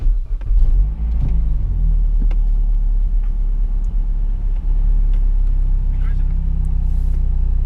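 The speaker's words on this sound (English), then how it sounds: "start the car" A car engine idles in a low steady rumble after starting, with brief louder cranking and revving near the start, heard from inside the vehicle.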